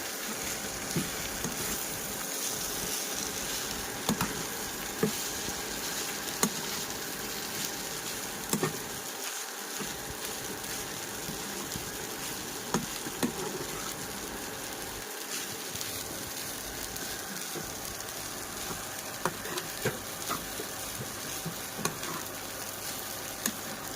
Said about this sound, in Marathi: हे सगळे मिक्स करून घ्यायचे.